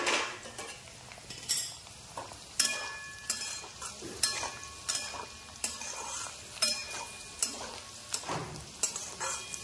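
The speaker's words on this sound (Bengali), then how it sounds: "ঢাকনাটা উঠিয়ে দেখি কতটুকু ভাজা হয়েছে।" Sago pulao fries in oil in a pan while a spoon stirs and scrapes it, with steady sizzling under a run of rhythmic metallic clinks and scrapes.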